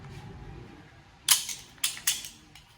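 An M1 Garand rifle fires outdoors. A sharp crack sounds at a distance, then a few quicker metallic snaps and echoes follow over a faint background hum.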